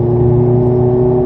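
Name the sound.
car accelerating out of a corner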